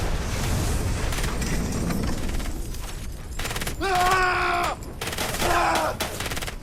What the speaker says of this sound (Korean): 오가는 총성 속에서